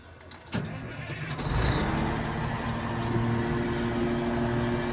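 A wheel dozer with a low-power engine fault cranks briefly, then its diesel engine catches and settles into a loud, steady idle rumble close by.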